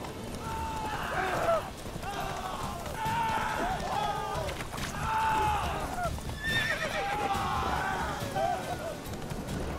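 A horse in the video game The Witcher 3 neighs repeatedly over galloping hoofbeats, several whinnies rising and falling in a steady chase rhythm, with a voice speaking now and then.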